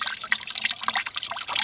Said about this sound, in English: Crank the screwing mechanism until the amount of juice coming out stops, increasing after each torque, flowing to a drizzle.